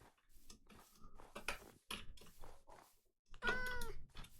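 A cat in the Minecraft video game gives several short meows, close and clear, spaced out between brief silences, with a longer, louder meow near the end.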